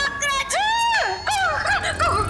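A woman shrieks in fright at a cockroach, high tremulous cries rising and falling in a few long bursts, loud and close, with no other voices.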